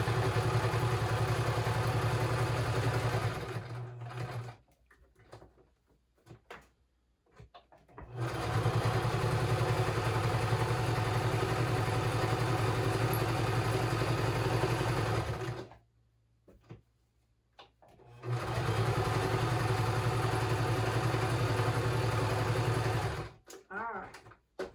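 A sewing machine stitches a small 6x9 junk journal in three long runs, a loud steady mechanical whirr and clatter, each stopping abruptly into near silence with faint handling noise and brief talk between.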